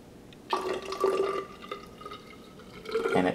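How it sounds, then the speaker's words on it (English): Clear, colorless chemistry solution poured into a graduated cylinder: a soft trickling splash starts after a brief quiet moment, thins out midway and swells again near the end, close and fairly quiet, with no talking. "I'll be pouring a clear and colorless solution into this graduated cylinder"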